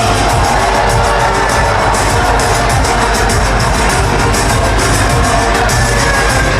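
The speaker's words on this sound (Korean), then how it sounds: "큰 박수 부탁드립니다" A large crowd at a Democratic Party presidential primary rally cheers and applauds continuously and loudly, a dense wash of clapping and shouts filling the space with no clear speech.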